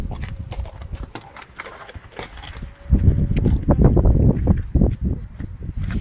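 A horse's hooves clop and shuffle on hard ground in a stable yard while it is being saddled and bridled, with scattered light steps at first, then a heavier, closer run of irregular stamps.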